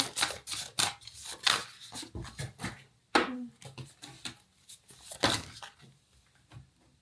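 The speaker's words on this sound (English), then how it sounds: "I find myself shuffling the tarot deck once again" A tarot card deck being shuffled by hand gives a series of close, crisp riffling and slapping bursts in an irregular rhythm, with short quiet gaps between them.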